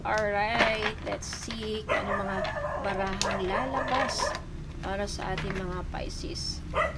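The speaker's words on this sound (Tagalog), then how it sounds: "Yung aso ko tumatahol." A pet dog barks and yips repeatedly indoors, the barks mixed in with a person talking steadily in the foreground.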